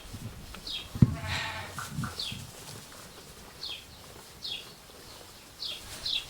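Nursing ewes bleat repeatedly in a barn at feeding time, several short cries spaced a second or so apart, moderately close, with a knock and rustling of hay.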